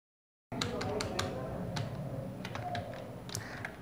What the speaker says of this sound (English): Now here you just have to type the email address of your customer.